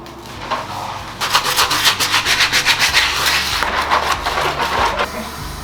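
A dirty shower is scrubbed with quick, rhythmic back-and-forth rasping strokes, close and loud, over steady low background music.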